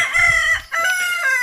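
A native rooster crows once, loud and close, a long strained cock-a-doodle-doo with a brief break in the middle.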